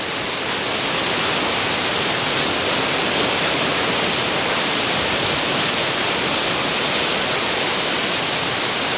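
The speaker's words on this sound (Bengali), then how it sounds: "এত বৃষ্টি আসছে, কিছু বলার নেই" Dense, steady roar of heavy monsoon rain pouring down in Bangalore, loud and unbroken throughout.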